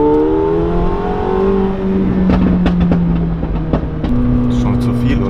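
A McLaren 720S Stage 2 sports car drives off, its engine note rising and shifting through several gear changes, loud and close, with sharp crackles and pops while people talk over it.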